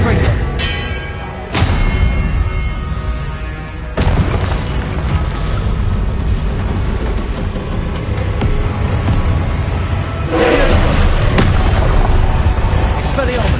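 Confringo blast spells explode in the Hogwarts Legacy video game. Several loud, separate booms land a few seconds apart over a busy background of combat noise and voices.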